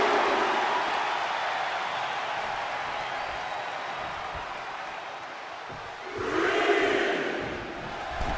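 In the WWE 2K24 video game, a wrestling arena crowd roars steadily, then swells into a louder burst of cheering near the end, with faint commentary underneath.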